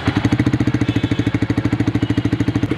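A Yamaha R15M motorcycle fitted with a full system exhaust idles up close, its loud, deep pulsing burble steady and even throughout with no voices.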